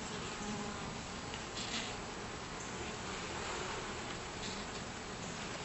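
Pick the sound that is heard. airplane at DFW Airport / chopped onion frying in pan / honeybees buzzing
honeybees buzzing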